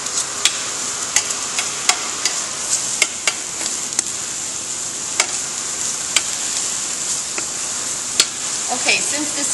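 Sausage fries in a pan with a steady bright sizzle throughout, dotted with sharp pops and crackles at irregular intervals, close and fairly loud.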